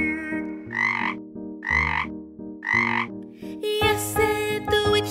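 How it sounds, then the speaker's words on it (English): A frog croaks three times in steady rhythm over a musical backing in a children's storybook song, the croaks loud and close before the music swells alone. "politely then said with a croak"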